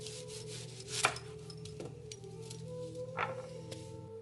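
A knife thinly slices an onion on a cutting board, making a few soft, scattered cuts and light rubbing strokes. It is quiet and close, with no talking.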